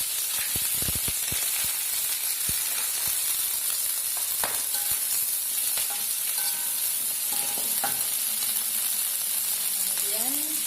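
Vegetables fry in a pan for Mie Aceh: a steady, loud broadband sizzle throughout, with scattered clicks and scrapes of stirring and brief faint voice-like tones.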